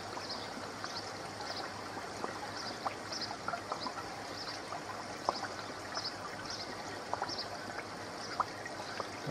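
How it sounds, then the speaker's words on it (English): Steady trickling and running water filling a koi pond filter, with small bubbling pops of air escaping a bleeder scattered throughout; no voices, moderately close and fairly quiet. "Bubbles you can hear there, what's coming out the bleeder here."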